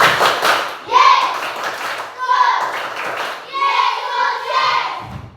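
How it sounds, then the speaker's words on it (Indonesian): A group of children claps in bursts of rapid, dense applause, fairly close, with brief pauses between rounds. "Ya, tepuk tangan Yesus."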